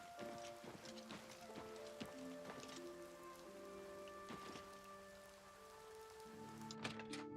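Steady rain falls across an outdoor town in the Oblivion Remastered game, a constant soft patter under game music with tonal notes and a few clopping hoof-like taps.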